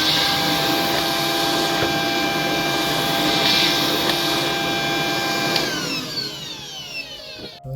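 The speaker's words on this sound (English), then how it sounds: "I'm going to put on this crevice tool for the corner to vacuum." A Tineco cordless stick vacuum with a crevice tool fitted hums loudly and steadily, then its motor winds down near the end as it is switched off.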